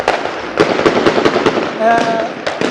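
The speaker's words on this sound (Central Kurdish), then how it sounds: "ژمارەیەکی زۆر لە چەکدار تەقە دەکەن" Rapid gunshots from several armed people crack in an irregular burst of sharp reports, loud and echoing, during a protest at Sayid Sadiq, with a voice shouting over them partway through.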